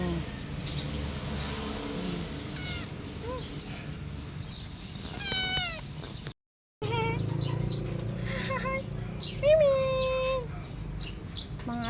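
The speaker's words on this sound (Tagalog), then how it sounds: "Mga adopted kong pusa, hindi ko lang pwede ipasok." Adopted cats meowing outdoors, a few rising and falling calls drifting in over steady background noise, with a voice also speaking nearby.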